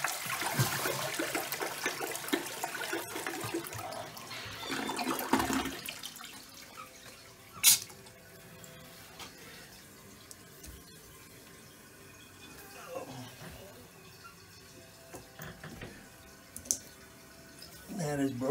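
Water rushes loudly through a pump line right after a valve is turned back on, then settles into quieter trickles, drips and an occasional clunk over the following seconds.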